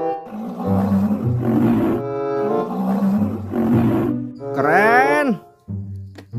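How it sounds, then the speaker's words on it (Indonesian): A toy rhinoceros plays an electronic animal roar over a steady low hum, with several loud rumbling bursts and a sweeping, harmonic cry near the end. "Wih, ini adalah seekor badak."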